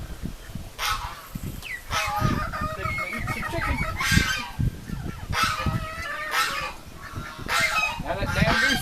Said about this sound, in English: Now that damn goose is coming down here.